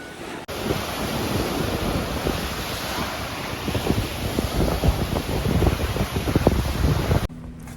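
Small ocean waves breaking on a shore, steady rushing surf with soft crashes building toward the end, mixed with buffeting wind against the microphone and no voices.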